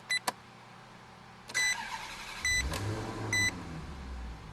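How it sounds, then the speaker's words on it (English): A 2008 Maserati Quattroporte Nero Carbonio starts up: a few electronic chimes and beeps sound, then the starter catches and the engine fires with a deep rumble and settles into a steady idle close by. "Just listen to this car start."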